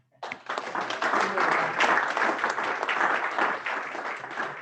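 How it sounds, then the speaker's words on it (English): A Rotary meeting audience breaks into applause for foundation contributors, starting abruptly and holding as a dense, moderately close round of clapping that eases slightly near the end. "one final round of applause for everybody that did the Paul Harris or contributed anything to the foundation"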